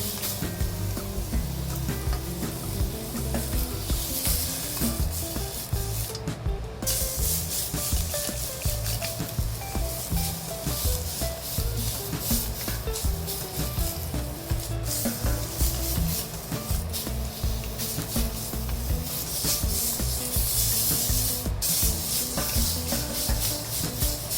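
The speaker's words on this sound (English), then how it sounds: "So you have to saute all sides and this side also." Char siu pork sizzles steadily in a hot pan as it is sautéed on all sides, a dense continuous frying hiss with occasional scraping and turning sounds, close and unbroken throughout.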